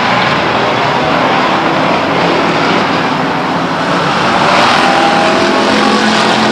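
Race cars roar continuously around the Stockton 99 Speedway oval during a 1999 race, engines loud and dense with a steady wash of noise that swells slightly near the end.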